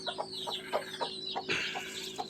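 A hen clucks among newly hatched black and white chicks just taken out from brooding, with repeated high chirps and short low clucks in an uneven rhythm, close and fairly clear.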